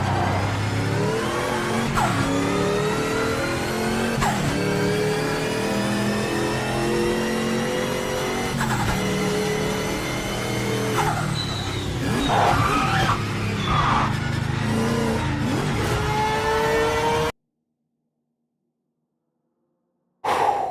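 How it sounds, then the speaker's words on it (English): A race car engine in the Automobilista 2 racing game revs hard and repeatedly up through the gears, loud and close with brief tire squeals, before cutting to silence near the end. "But listen to this car. Listen to this thing."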